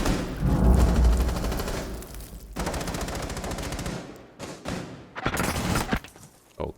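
Rapid automatic gunfire in Rainbow Six Siege, dense bursts of shots in quick succession with short gaps between volleys, loud and close with no talking.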